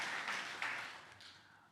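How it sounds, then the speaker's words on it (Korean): A church congregation applauds its choir, conductor, accompanist and instrumental musicians after a worship service performance, a dense wash of clapping that swells at the start and gradually fades over the short stretch. "우리 박수로 마음을 전하겠습니다"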